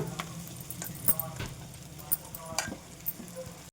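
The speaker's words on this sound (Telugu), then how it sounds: "ఇప్పుడు నేను రెడీ చేసి పెట్టుకున్న అన్నాన్ని ఈ పోపులో వేసేస్తున్నాను" Cooked rice scrapes and clinks in a hot pan of sizzling tempering for avakaya biryani, a spoon stirring in uneven strokes close up amid a light sizzle.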